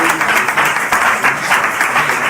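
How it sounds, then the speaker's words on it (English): Loud, close audience applause for a school placed in a ranking, a dense rippling clatter of many hands that surges and dips in waves throughout. "Please give us a round of applause."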